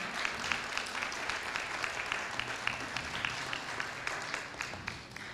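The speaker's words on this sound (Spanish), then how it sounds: "Un aplauso también para él, por favor." Audience applause at a book presentation, a steady wash of many hands clapping at moderate volume that fills the whole stretch and thins slightly near the end.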